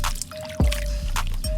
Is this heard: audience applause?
no